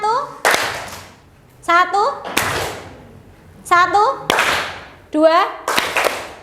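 A classroom group claps in a counting rhythm game, sharp unison hand claps in short bursts alternating with a teacher's voice counting and giving instructions.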